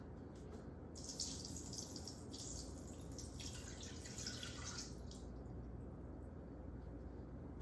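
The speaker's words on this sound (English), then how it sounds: "I'm gonna put a water into the bottom of it" Water poured into the bottom of an Instant Pot beneath a small basket: a steady trickling pour that runs for a few seconds, close by, with no talking.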